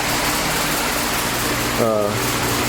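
Steady broadband whooshing noise from an electric fan runs throughout, with a brief muffled sound near the end.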